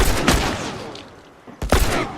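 Heavy shotgun blasts in The Last of Us, two loud close booms with a brief lull between them, each followed by a fading roar.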